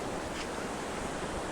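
A flooded village river runs high in steady rain, giving a constant, dense rushing roar with no breaks and no voices.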